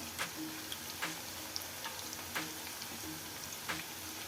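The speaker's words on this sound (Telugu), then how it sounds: "ఇలా కొన్ని కొన్ని వేసుకుంటూ ఫ్రై చేసుకుందాం" Chicken pakoda pieces, pounded chicken in a light masala batter, frying in hot oil, giving a steady close sizzle with occasional crackles and small clicks as pieces go in one by one.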